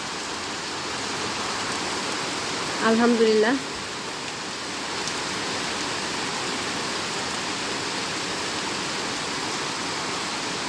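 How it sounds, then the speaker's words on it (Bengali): Steady rain falls in a constant hiss before dawn in Sylhet, with a person speaking briefly near the beginning over the even, moderately loud downpour. "আসলে বৃষ্টি দেখলেও খুবই ভালো লাগে"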